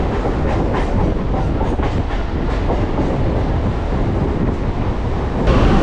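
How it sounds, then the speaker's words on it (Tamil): A train rolls into Tambaram railway station on the Guindy to Kilambakkam line, giving a loud, steady rumble and rattle of wheels and carriages that holds throughout and swells slightly at the end. "இப்போ ட்ரெயின் தாம்பரம் ரயில்வே ஸ்டேஷனுக்குள்ளே என்ட்ரி ஆகுது."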